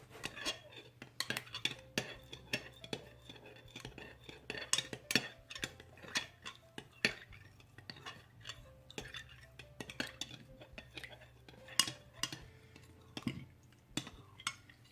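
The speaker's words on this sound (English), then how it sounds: "let me stir it really well" A utensil stirs a homemade body spray mixture in a container, giving soft, steady scraping and clinking taps in an irregular rhythm, close and fairly quiet, with no voices.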